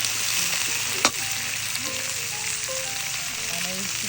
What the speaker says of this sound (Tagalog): pagkatapos nyo nilagay ang bawang at kuya, igigisa na dito yung gulay